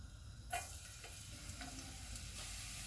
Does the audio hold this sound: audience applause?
no